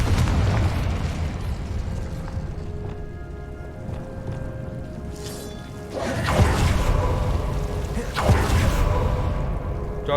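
The Confringo spell in Hogwarts Legacy fires, with layered booms and bursts rising over a steady rumble of game audio, two strong blasts in the latter half.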